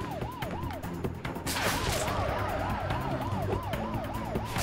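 An ambulance siren wails continuously and loudly in the Spider-Man: Web of Shadows video game. Its rising and falling cycle repeats steadily, with a few sharp impacts at the start and no talking.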